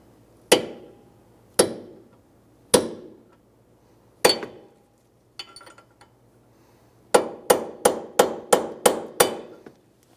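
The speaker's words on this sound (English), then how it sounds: "So now we're going to use a punch onto the axle nut and stake that into place." A hammer strikes a punch to stake the axle nut on a 2003–2011 Honda Element rear hub: sharp metallic blows, a few spaced singly, then a quick run of about seven close together.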